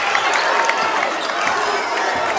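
A dense, loud crowd at a close high school basketball game between the Analy Tigers and Piner Prospectors cheers and shouts continuously, a sustained roar with scattered yells and no clear individual voices.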